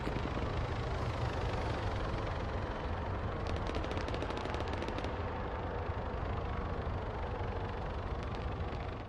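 Distant gunfire from other players echoes through an Arma 3 King of the Hill battlefield, a steady low rumble with a cluster of sharp rapid cracks midway, faint and continuous with no one speaking.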